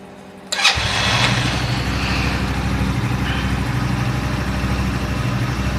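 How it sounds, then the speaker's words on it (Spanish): A motorcycle engine cranks and catches, then settles into a steady, close idle that runs unbroken to the end, with no talk over it. "Vamos a poner en marcha la moto."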